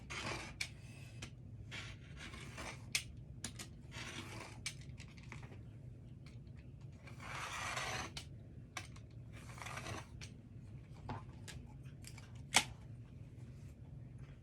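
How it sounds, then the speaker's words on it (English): A series of short, crisp slicing and scraping sounds, some longer swipes among quick taps, as a rotary blade rolls across fabric close by. "I'm going to use my rotary cutter."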